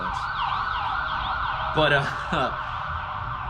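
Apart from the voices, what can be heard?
ambulance siren passing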